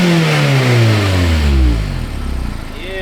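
A Mazda ND Miata with a Tomei Expreme Ti exhaust revs up loudly and close by, its engine note sweeping up then falling back toward a rough idle over a few seconds.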